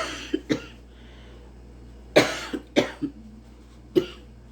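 Several sharp coughs close to the microphone, spaced irregularly with quiet pauses between them, a couple coming in quick pairs.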